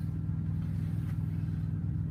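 Truck engine idling with a deep, throaty low rumble, steady and close with a regular pulsing beat throughout, no talk over it.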